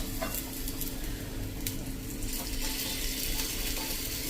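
Masala dosa batter sizzling on a hot griddle with ghee, a steady close frying hiss running throughout with a few light clicks and scrapes, no talking.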